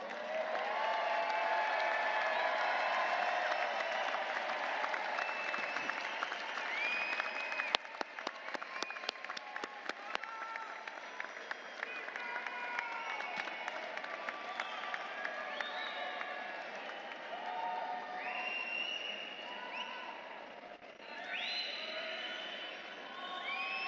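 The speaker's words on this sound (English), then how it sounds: "salute them with your applause" Graduates at a Florida State University spring commencement ceremony applaud their families in the audience, sustained crowd clapping with cheering and scattered whoops filling a large hall, steady throughout.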